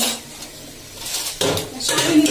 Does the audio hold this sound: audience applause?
no